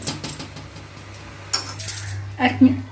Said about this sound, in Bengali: এক মিনিট মতন একটু ঢাকা দিয়ে দেবো।